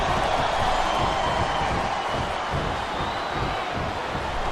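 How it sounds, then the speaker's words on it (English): WWE Smackdown vs RAW 2008 arena crowd: a dense, continuous roar of cheering fans, steady and loud from start to finish. "This capacity crowd is solidly behind their superstar."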